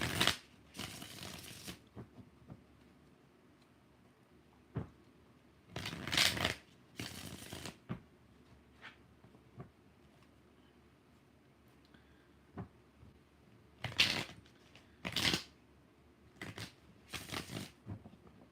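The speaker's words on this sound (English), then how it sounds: "5 shuffles" Tarot cards being shuffled in several short bursts of rapid riffling, close and crisp, separated by quiet pauses and small taps.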